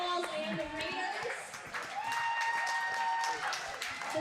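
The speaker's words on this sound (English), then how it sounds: "let's give a round of applause for Fireballs and the Raiders." An audience at a live league event at Courts & Commons claps for the teams, a soft, scattered round of applause mixed with chatter and children's voices.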